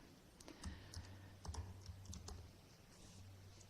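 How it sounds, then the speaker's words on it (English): Keys on a French computer keyboard are typed in a faint, irregular series of clicks and taps, quiet and close, with a low hum underneath. "French keyboard."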